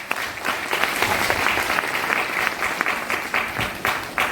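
An audience at a motivational talk breaks into loud, sustained clapping, dense and continuous with a few sharper individual claps standing out.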